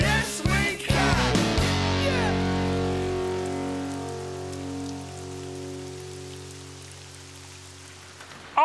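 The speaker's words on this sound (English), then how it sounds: "I'm fed up with this rain, Dizzy. Me too. It's been pouring for ages now." Heavy cartoon rain pours in Bob the Builder, a dense, steady hiss of drops on surfaces that fades gradually over several seconds, starting after a brief burst of music-like tones and no talk.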